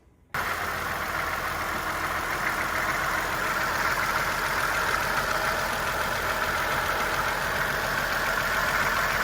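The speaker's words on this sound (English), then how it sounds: "Now that we are going to cut on the engine to see how it responds." A Chevrolet Malibu or Suzuki Verona engine turns over and catches after a short silence, then settles into a steady, loud idle that runs on without change.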